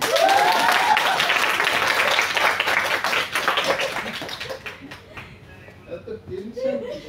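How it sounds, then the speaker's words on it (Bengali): Studio audience bursting into loud clapping that fades after a few seconds into scattered claps, with a person talking over the end. "ভয় কিসের? জোরে হাততালি।"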